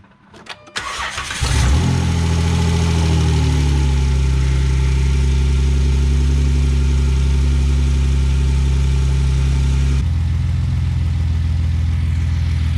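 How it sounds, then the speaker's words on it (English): A Jeep Wrangler JK engine cranks briefly, catches and settles into a loud, steady idle that continues alone, with a slight change in tone near the end. "Alright, I'm going to start it back up and check for any leaks down here."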